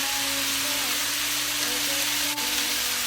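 Browned pork sizzles steadily in a pan with a bay leaf and peppercorns added for Filipino pork adobo, a close, even hiss with faint background hum and one brief tap.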